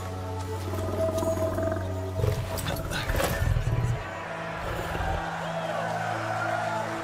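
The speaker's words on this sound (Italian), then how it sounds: "Guarda che ha chiamato un lupo che ha fatto a pezzi il nemico." A summoned wolf tearing apart an enemy in the video game Soulframe, heard as loud snarling and roaring bursts over a steady bed of game ambience and music.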